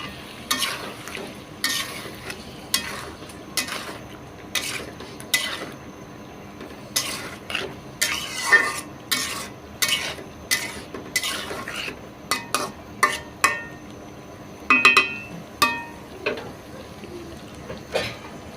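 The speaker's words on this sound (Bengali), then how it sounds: "কড়াইতে যে মশলা আছে ওই মশলাতে আমি কলাগুলো কষাবো" Raw banana chunks are stirred through hot spice masala in a kadai for a Bengali hilsa fish curry, giving a steady run of scraping, clinking spatula strokes over a low sizzle, close and with no voices.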